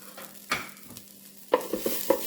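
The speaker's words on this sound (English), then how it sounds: "I'm going to give that one more stir." Food is stirred in a Ninja Speedi cooker with broth, thyme and green onion: a few scraping, clinking strokes of a utensil against the pot over a faint simmer, close and without talk.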